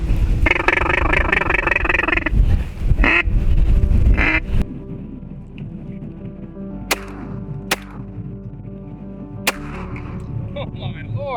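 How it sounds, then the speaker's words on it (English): Ducks quack loudly as they fly in to hunters at Devils Lake during a waterfowl hunt. Several sharp shotgun blasts ring out afterward, with some voices in the background. "These birds are committing, they're coming."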